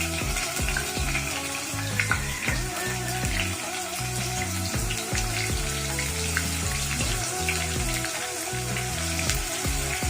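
Chopped onions hitting hot oil in a pan for chicken noodles, giving a steady, dense, crackling sizzle that runs the whole time with a constant, close hiss.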